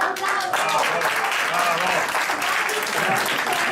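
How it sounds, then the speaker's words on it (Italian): An audience applauds steadily, a dense wash of clapping that holds at an even level from start to finish. "Un applauso!"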